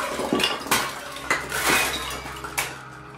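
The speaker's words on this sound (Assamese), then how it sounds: "অলপ পিছতেই পাকঘৰত শুনিছিল বাচনৰ শব্দ।" Dishes, pots and cutlery clatter and clink in a kitchen in a few sharp, loud bursts spread over several seconds, with no talking.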